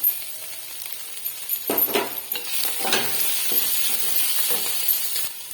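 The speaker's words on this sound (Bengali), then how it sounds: "আবার আমি চাপা দিয়ে এটা ভাজবো।" Mushrooms fry in a covered pan, giving a continuous close sizzle with scraping stirs and soft clinks of the spatula rising and fading over several seconds.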